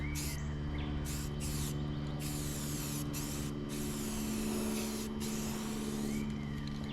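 Metallic spray paint from an aerosol can hisses onto a car in several loud, close bursts separated by brief pauses, with a steady hum underneath.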